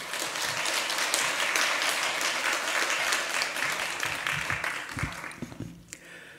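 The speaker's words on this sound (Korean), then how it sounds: "박수로 환영하겠습니다." A church congregation claps to welcome a preacher, a broad, even round of applause that thins out near the end, where a few low thumps and a brief voice come through.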